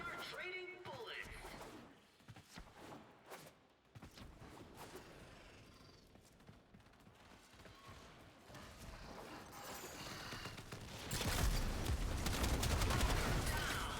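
Rapid exchanges of gunfire in the PC game Warframe pop and rattle at a modest level under game music and effects, growing into a louder, denser burst of sustained firing toward the end.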